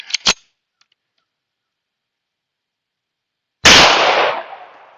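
Gunfire cracks out at a shooting range: a quick pair of sharp, loud reports at the start, then a long silence before a single heavy boom with a lingering, decaying echo.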